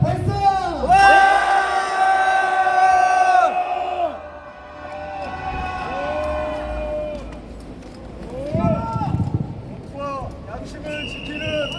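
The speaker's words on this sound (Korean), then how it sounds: "대한민국 검사와 판사들에게 응원의 함성" A rally crowd roars in support of prosecutors and judges: loud, drawn-out collective shouts and whoops from many voices that swell, fade, then rise again in a second wave, close and full.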